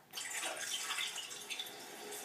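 Water pours steadily onto a compressed cocoa peat disc made from coconut husks, a continuous splashing, trickling wash that sounds close and fairly loud, with no voices.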